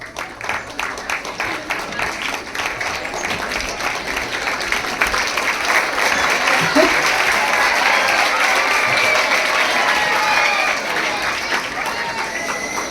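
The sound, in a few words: audience applause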